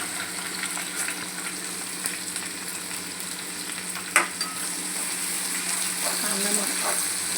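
Onions fry steadily in a pan with curry leaves and spice powders, a dense continuous sizzle close up with a single sharp utensil knock partway through and no talking.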